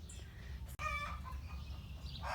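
A blue rooster lets out a short, close cluck over a low rumble of farmyard background, followed by softer faint calls.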